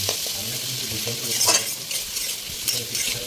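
Chicken pieces frying and being stirred in a pan for chicken 65, with a steady close sizzle, a spatula scraping and light clinks of utensils against the pan.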